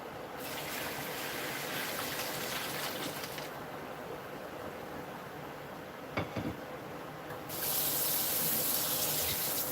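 Tap water runs into a kitchen sink over spaghetti pasta being rinsed, a steady close hiss of flow that drops to a softer trickle midway, then brightens again, with a faint knock and no talking.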